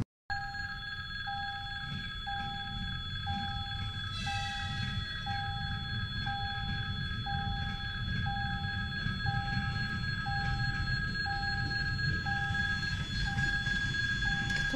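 A train passes a level crossing, its low rumble running steadily under a regular repeating warning bell and sustained tones, near and continuous throughout.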